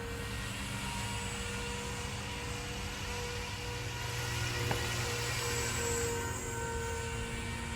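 A Walkera Dragonfly V500D01 six-channel RC helicopter hovers with a steady, even whine from its electric motor and rotor, holding one pitch for several seconds under a faint outdoor background, with nobody speaking.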